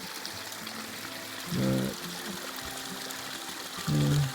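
Spring water trickles steadily from a hillside source, a constant soft rushing close by, with someone briefly speaking twice over it.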